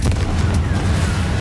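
The Confringo blasting spell explodes in Hogwarts Legacy with a loud, rumbling, booming burst. Further impacts follow in quick succession over a low, continuous roar.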